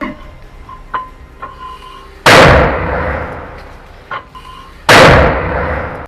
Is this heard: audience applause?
no